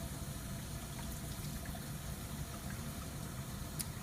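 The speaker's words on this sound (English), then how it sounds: "Then we turn on the water." Water runs steadily in a laboratory setup, a constant rushing hiss with a low pump-like drone under it and no break or change throughout.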